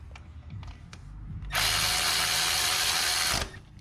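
Power tool with a 12mm socket driving in the water pump bolts on a Nissan Altima, a single steady whir of about two seconds up close, preceded by faint clicks and handling sounds.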